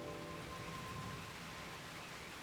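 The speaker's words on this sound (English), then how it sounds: "we should get inside before the rain gets any worse" Steady rain in the Blade & Soul game world, a dense even hiss of falling drops with a faint low rumble underneath, continuous and moderately distant, with no voices.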